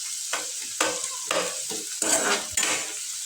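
Frying in a pan for restaurant-style paneer bhurji: a spoon scrapes and stirs in several quick, uneven strokes over a continuous close sizzle, with no talking.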